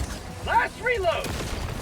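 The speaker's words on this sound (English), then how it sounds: "Last reload!" A weapon reload in Helldivers 2 gives a quick series of close metallic clicks and a ratcheting clack, short and sharp over low game background noise.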